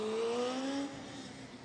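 Formula Student race car, number 87 from Coventry running without its rear wing, passes through Copse Corner in third gear, its engine note a loud rising then falling whine that fades as it moves away.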